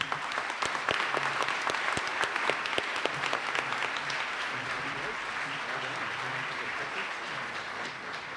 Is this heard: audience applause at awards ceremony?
yes